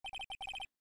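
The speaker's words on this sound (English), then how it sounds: "And what's with this stupid sounding ringtone?" A cell phone ringtone in the Phoenix Wright courtroom video game, a chirpy electronic trill of rapid repeated beeps in short bursts with a brief gap, loud and alone.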